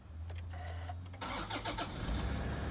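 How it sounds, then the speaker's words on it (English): A 2011 Toyota Prado GXL is started with its door open: a starter whir under a steady low hum, then the engine catches and settles into a loud, close idle with slight revving. "So I'm just gonna start it up for you now."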